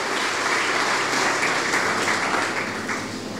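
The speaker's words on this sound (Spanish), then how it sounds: "Dale un aplauso al Señor Jesucristo" Church congregation applauding during a sermon, a dense sustained wash of many hands clapping that stays loud throughout, with no talk over it.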